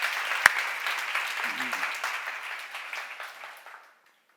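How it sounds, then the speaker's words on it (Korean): Audience applause during a church seminar, a close burst of many hands clapping that thins out and fades to silence after about four seconds, with a brief voice partway through. "빨리 박수하세요."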